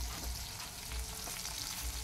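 Dried fish fries in a pan while a spatula stirs it, a close, continuous sizzle with scraping strokes and no voices.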